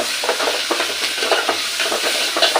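Ripe tomatoes being stirred into a frying pan with a spoon, steady scraping strokes over a continuous light sizzle, close and fairly loud with no talking.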